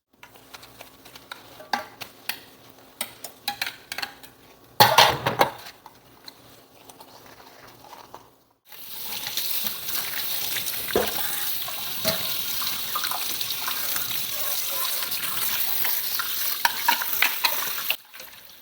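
Dishes, pots and children's lunch boxes are washed at a kitchen sink, with clatter and scrubbing at first, then a burst and a long steady rush of running tap water filling most of the clip.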